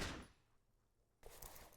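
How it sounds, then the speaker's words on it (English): A gun bursts apart in the player's hands in Disco Elysium, with a loud, sharp blast that decays into quiet, followed by a second abrupt burst of noise. "You hear an explosion within the weapon in your hands."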